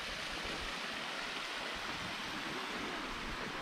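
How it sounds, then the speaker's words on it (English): A small waterfall at Crystal Geyser near Green River, Utah, pours into the river. It makes a steady, dense rushing roar that stays constant and fairly loud throughout. "little waterfall right on down into the river"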